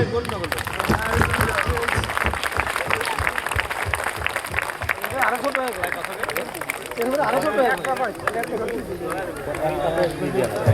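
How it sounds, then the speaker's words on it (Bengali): Applause and crowd noise at an Olympic torch run ceremony on a sports field, steady clapping blending with crowd chatter and voices throughout, fairly loud and continuous. "সবার থেকে একটি করতালি আশা করছি।"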